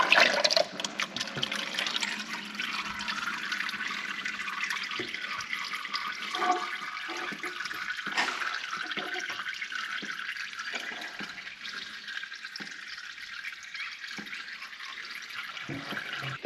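Transmission fluid drains sideways out of a Mercedes 722.6 automatic gearbox, a steady trickling, splashing pour that runs continuously at close range for over fifteen seconds, with no voices.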